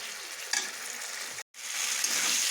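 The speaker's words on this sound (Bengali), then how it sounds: "এবার আমি আঁচ বাড়িয়ে নেব, নিয়ে আমি ভালো করে মশলাটা একটু কষিয়ে নেব এঁচড়ের সাথে।" Spices frying with raw jackfruit and boiled potato in a pan over raised heat, a close, steady sizzle with stirring scrapes, briefly cut off for a moment before resuming, no speech.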